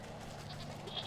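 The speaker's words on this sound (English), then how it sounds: "Mountain goat. A shaggier cousin of the familiar goat." A mountain goat, a shaggy wild relative of the domestic goat, bleats once or twice in a short, nasal call that rises toward the end, close and fairly clear over a steady low background hum.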